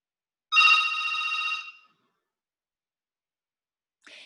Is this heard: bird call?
no